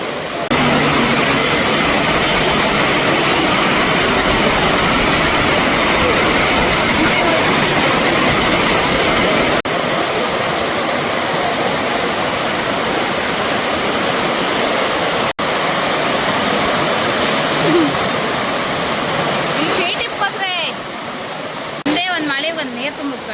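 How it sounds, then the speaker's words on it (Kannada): Heavy monsoon rain pours steadily at the Kollur temple during a Vidyarambha puja, a dense continuous roar with no breaks that thins near the end. "ದೇವಸ್ಥಾನದ ಚಾವಣಿ ಎಲ್ಲ ಸೋರಕ್ಕೆ ಶುರು ಆಯ್ತು, ಮಳೆ ಜೋರು ಬಂದು"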